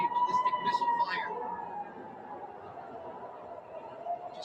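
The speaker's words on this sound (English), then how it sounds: "These sirens sounding across the city" A wailing air raid siren rises and falls across a city during a ballistic missile attack. It is distant and sustained, with a steady tone under a broad background rumble.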